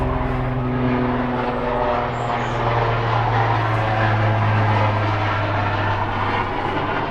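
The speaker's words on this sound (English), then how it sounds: "That helicopter is actually shaking the van. That's how low it is." Loud, steady low-pitched rumble of a helicopter flying low overhead, low enough to shake a parked van, a heavy continuous drone that fills the whole stretch without any voices.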